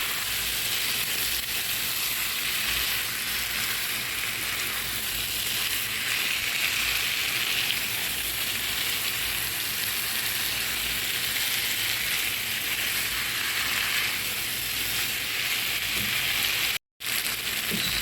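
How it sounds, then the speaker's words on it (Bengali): Prawns, potatoes and vegetable stems stir-frying with spices in a pan, a dense continuous sizzle and crackle that stays loud and even throughout with no talking. "ডাটা চিংড়ি মাছ আলু আমি মশলার সাথে আমি ভালোভাবে কষে নিয়েছি"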